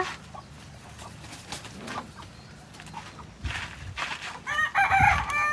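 Fighting-breed roosters on a farm cluck and squawk nearby, growing louder and more agitated toward the end, with some shuffling movement around them.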